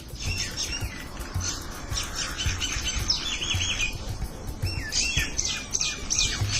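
Several myna birds chirp and whistle in quick, overlapping calls against a low rumbling background, busy and lively throughout.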